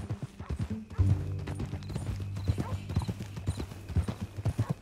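In Red Dead Redemption II, a horse's hooves clip-clop in a steady rhythm on the ground, close and distinct, while people talk over the riding.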